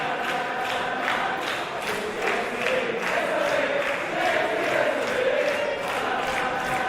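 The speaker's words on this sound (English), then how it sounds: "And you hear the crowd singing" Crowd at a women's wrestling event singing together in the arena, a sustained chanting melody rising and falling beneath a constant background of audience noise.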